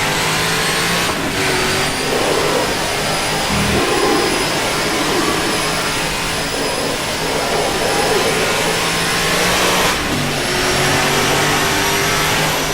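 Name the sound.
stock car engine in rFactor 2 video game at Watkins Glen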